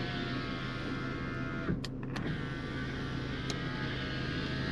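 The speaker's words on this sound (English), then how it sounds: "Those rear windows, they go all the way down." Power rear windows of a 1993 Honda Accord wagon, a fourth-generation model, whirring steadily downward inside the cabin, a continuous motor hum with a couple of brief clicks partway through.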